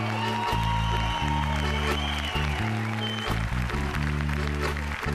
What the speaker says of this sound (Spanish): Un aplauso fortísimo